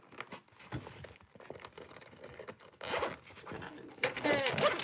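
A zipper on a handmade sewn heart-shaped fabric bag being unzipped, with quick raspy zipping strokes and some crinkly fabric handling, fairly close and clear, while a person talks at times.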